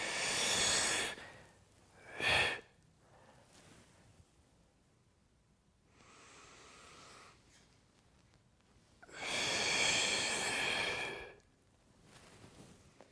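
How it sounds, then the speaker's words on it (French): Slow, deliberate breaths in and out during a golf-themed core and mobility workout, with several close, airy exhalations and inhalations separated by quiet pauses. "Vous inspirez et expirez."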